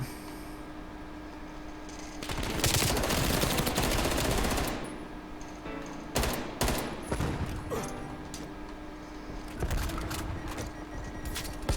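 Automatic rifle gunfire from the Call of Duty Black Ops Cold War video game, a sustained loud burst followed by several shorter volleys of shots, with no talk over it.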